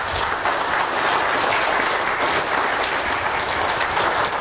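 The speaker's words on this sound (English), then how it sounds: "Let's give them a round of applause." Steady, dense applause from the audience at a Sunday evening graduation service, filling the whole stretch at an even level with no voices.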